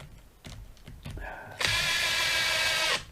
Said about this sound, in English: I'll screw this into place.